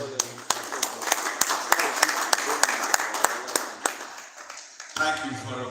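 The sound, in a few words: audience applause at a builders conference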